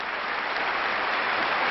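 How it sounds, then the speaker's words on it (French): A packed stadium crowd at the 1987 French Open at Roland-Garros applauds a women's tennis match, producing a dense, steady roar of clapping that fills the whole moment without a break. "ce stade Roland-Garros plein à craquer et qui va applaudir à tout rompre Steffi Graf et Hélène Kelesi"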